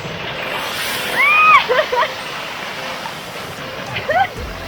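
A full, powerful waterfall on Koh Samui pours in a constant close roar as people talk and exclaim over the rushing water.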